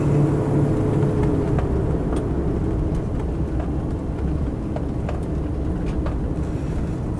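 A Land Rover Defender 90 50th Anniversary drives along steadily, its engine and road rumble continuous and fairly loud throughout, with occasional faint clicks over the drone and no talking.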